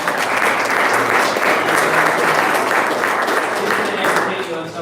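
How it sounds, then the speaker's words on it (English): An audience at a county Republican party quarterly meeting breaks into a round of applause, dense continuous clapping close and loud for several seconds, fading slightly at the end. "Let's give her a round of applause."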